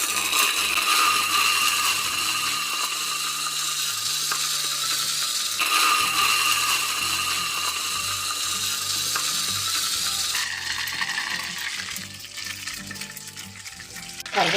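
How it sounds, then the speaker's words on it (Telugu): Curry leaves fry in hot oil under a plate that keeps them from spattering, giving a loud, continuous crackling sizzle close by that eases off toward the end. "ఇప్పుడు దీనిలో మనం కొంచెం కరివేపాకు వేసి వేయించుకోవాలండి."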